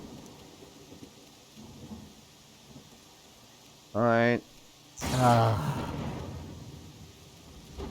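Soft, steady rainfall hisses in a Pathfinder: Kingmaker game scene, a low continuous wash under two short bursts of a voice.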